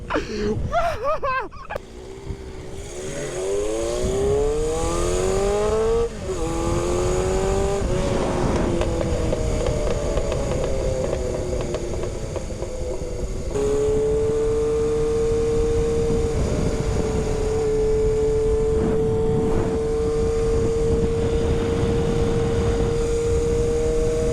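A rebuilt, previously crashed Honda CB750 motorcycle engine runs loud and close, revving up and settling into a steady idle with occasional sharp exhaust pops, with brief talk early on.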